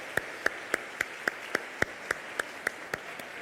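A church congregation applauding Jesus, heard as a slow, regular series of sharp single claps, roughly three per second, standing out clearly against a quiet room.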